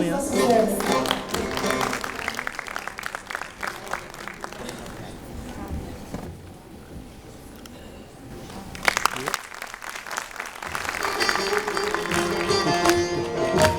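Audience applause for a soloist at a Turkish folk music choir concert, a steady wash of clapping across most of the stretch, briefly fading to a quieter gap midway before swelling again, with some voices mixed in.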